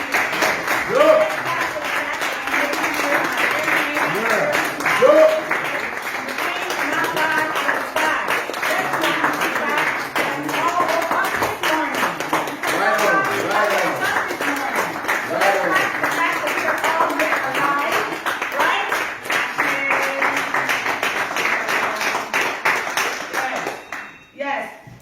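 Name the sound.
audience clapping for ancestors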